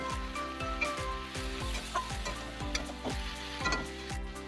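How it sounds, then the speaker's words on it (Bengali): Chicken is stirred with spices in a pan, giving a soft sizzle with regular scraping strokes of the spoon against the pan. Steady music plays over it, and no one speaks. "তো এটাকে কিন্তু এবার ভালোভাবে একটু নাড়াচাড়া করে নিচ্ছি আমি মাংসটার সাথে"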